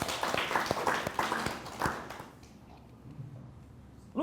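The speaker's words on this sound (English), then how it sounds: "Give me a big round of applause, come on." Audience at a business seminar gives a short burst of clapping with sharp individual claps, fading out after about two seconds into quiet room tone.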